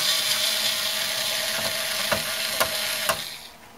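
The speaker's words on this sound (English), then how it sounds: "I'll just use the cordless screwdriver." A cordless screwdriver whirring steadily while backing screws out of a motherboard in an old Dell Dimension 2400 case, with a few sharp clicks near the end before the motor winds down.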